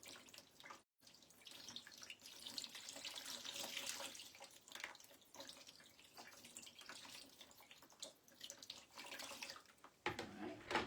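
Water runs from a tap in a quiet, steady splashing stream as marbled paper is gently rinsed, with faint drips and a small clunk near the end.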